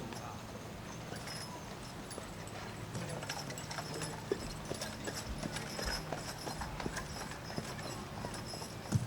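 Draft horses pulling a gentleman's cart on a victory lap around a 4-H fair show ring, hooves clip-clopping at a steady pace over faint crowd murmur and distant ambience, moderately far and quiet.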